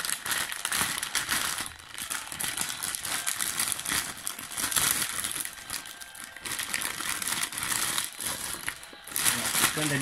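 Plastic wrapping crinkles and crumples continuously as the packaging of a Riddler collectible figurine is torn open up close, with brief pauses in the rustling.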